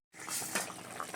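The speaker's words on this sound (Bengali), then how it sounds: "পরিমাণ মতো জল দিয়ে ফুটিয়ে নিয়েছি, এবারে মাছগুলো দিয়ে দিচ্ছি।" Small pond fish go into a pot of boiling water, making a short, quiet burst of watery splashing and bubbling close by, with no voices.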